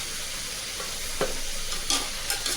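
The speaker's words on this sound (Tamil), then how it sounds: "கட் பண்ணி நல்லா வந்து மீடியம் ஃப்ளேமில் வச்சு தக்காளியும் வதக்கிடுங்க." Sliced tomatoes sautéing in a pan over a medium flame for mutton khichda, giving a dense, even sizzle with a few brief scraping stirs.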